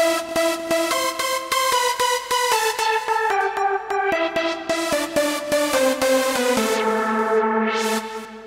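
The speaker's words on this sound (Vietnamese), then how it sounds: "Đây là cái tiếng dance nè mọi người." Dance voice preset on a Yamaha SX600 keyboard organ playing a bright, synthesized melodic phrase with rhythmic stepping notes and a sustained closing tone, loud and alone.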